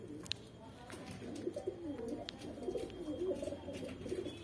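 Kaldum desi pigeons coo in soft, repeated rolling phrases close by, with a couple of brief sharp chirps or clicks near the start and quiet background hiss.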